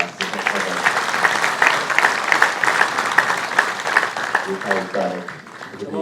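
A church congregation applauds steadily, a dense wash of clapping that fills the room throughout, with a voice speaking over it.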